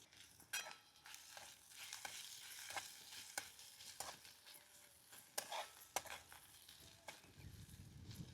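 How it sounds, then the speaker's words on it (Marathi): Chopped onion sizzles and fries in a pan for a vegetable dish of drumstick flowers, with steady crackling broken by sharp stirring scrapes at irregular intervals, close and moderately quiet, with no voices. "आता कांदा चांगला भाजून द्यायचा."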